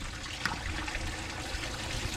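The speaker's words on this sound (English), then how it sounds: "the water's gushing out of it, so we know we're getting somewhere" Water gushes and splashes steadily out of a split rim truck tire being seated, on a 1962 Peterbilt 351, for a couple of seconds, a continuous watery rush with no voices.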